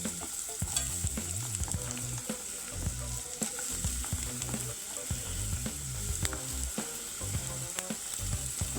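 Onion frying and being stirred in a hot pan for vegetable noodles: a steady, close sizzle with scraping utensil strokes and clatter running throughout, no voices.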